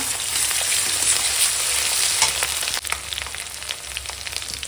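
Ginger-garlic paste sizzles in a pan with golden-fried onion and green chilli, a close, continuous crackling fry with faint stirring scrapes and a brief dip partway through.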